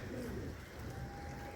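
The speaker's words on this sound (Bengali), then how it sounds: "কবুতরগুলো হাঁটছে, ওই যে দেখবেন ওরা আমার পায়ে আসবে" Pigeons on a rainy rooftop give soft, low cooing over a muffled, faint background hiss.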